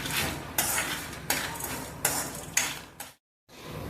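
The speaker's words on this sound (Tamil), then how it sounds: "இந்த மாதிரி பக்குவத்தில் வறுத்துருக்கேன்." Spices being dry-roasted and stirred in a metal pan, with a loud, steady scraping rasp broken by several sharp spoon-on-pan clinks at regular intervals, a brief silence, then the scraping resumes.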